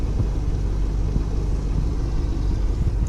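An RV engine with a starting fault runs steadily after starting, a constant low rumble heard close and fairly loud, with no voices.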